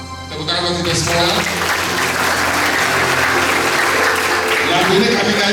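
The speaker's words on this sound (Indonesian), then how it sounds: "Tepuk tangan buat kita semua." A large audience at a provincial government program launch in NTT, Indonesia, bursts into loud, sustained clapping that sets in sharply after a moment and holds steady, with voices mixed into the applause.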